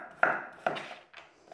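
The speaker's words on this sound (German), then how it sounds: "Den Sellerie und die Möhren schneide ich mir zuerst" Celery and carrots are chopped with a knife on a board for a gravy: three crisp, close chops in quick succession, the last one softer, with no voices.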